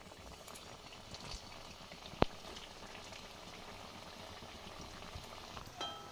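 Potato patties sizzle in hot oil with a steady, dense crackle and bubbling throughout, plus one sharp pop partway through; no voices.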